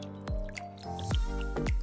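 Mountain spring water near Kalsubai dropping in a few distinct, close, resonant plops at roughly half-second intervals over a faint wet background, no voices.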